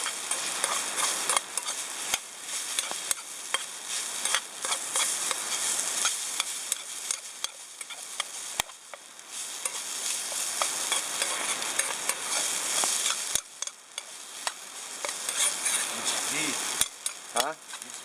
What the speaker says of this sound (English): I was really hoping the sausage would have released enough oil to fry the hash browns.